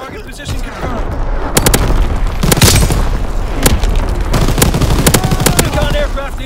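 Division artillery firing in Call of Duty, loud booming impacts and rapid gunfire bursts crowding a dense battlefield roar, with a radio-style voice heard over the action.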